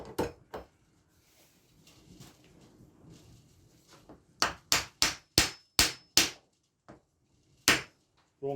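A metal hammer strikes hard while grease nipples are fitted on mandrels in a workshop. Two early blows are followed by a quiet pause and then a rapid series of about nine sharp, loud, close impacts.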